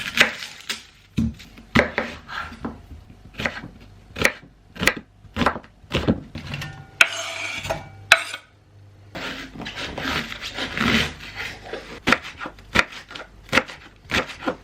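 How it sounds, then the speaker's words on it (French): Knife slicing onions and leeks on a cutting board, a run of sharp, evenly spaced chopping strokes close by, pausing briefly midway and then resuming in a steadier, denser rhythm. "je vais déjà émincer les oignons et les poireaux"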